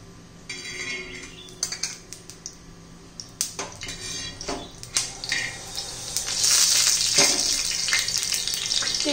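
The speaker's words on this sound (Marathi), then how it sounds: "तर त्याच्यामध्ये थोडं तेल घालून घेऊया।" Oil goes into a hot pan that was just used to roast peanuts for a raw mango chutney, with utensil clinks and taps building into a steady close sizzle and no talk.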